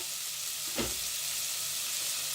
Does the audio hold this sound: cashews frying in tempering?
yes